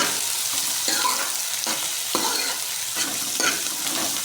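Onions fry in hot ghee, a constant loud sizzle broken by repeated scraping stirs at a rough, uneven rhythm, close up with no talking.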